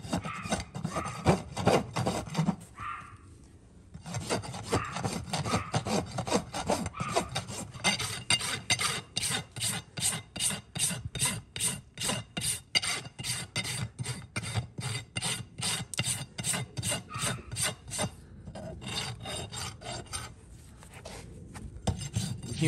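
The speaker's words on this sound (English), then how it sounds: "I'm going to clean those up and make them nice and smooth." Farrier rasping and smoothing a shod horse hoof, loud rhythmic back-and-forth rasp strokes in a steady fast series, pausing briefly twice, close and alone without talk.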